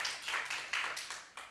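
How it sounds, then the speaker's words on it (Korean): A congregation at a Korean church revival meeting claps in unison, about six sharp, evenly spaced claps in a steady rhythm, fairly quiet with no voices over them. "박수 한번 칩시다."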